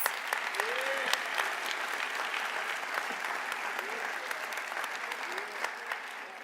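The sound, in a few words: round of applause at commencement ceremony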